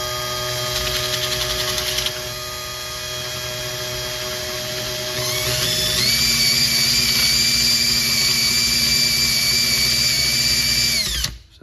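A power drill bores a pilot hole into a plastic BMX crank spacer in a workshop, its motor whining steadily and close, then rising in pitch and load partway through before stopping abruptly.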